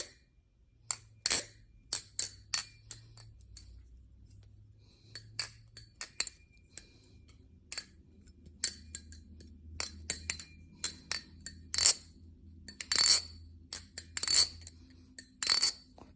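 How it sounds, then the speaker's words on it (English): Fellowship Blades Medusa balisong knife, lubricated, being flipped open and closed, giving a rapid series of sharp metallic clicks and clacks in irregular bursts, close up and loud, with no talking. "This is the best sounding balisong I've ever heard."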